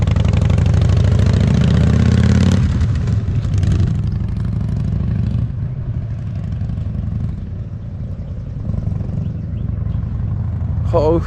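An abandoned Harley motorcycle that is being restored runs close by with a deep rumbling engine that revs hard at first, then settles to a lower, uneven throb through gear changes. A voice is heard over it near the start.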